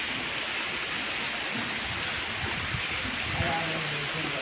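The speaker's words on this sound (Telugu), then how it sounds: "ఫుల్ వర్షం పడుతుంది." Heavy rain pours down in a steady, dense hiss with no let-up, with faint voices in the background.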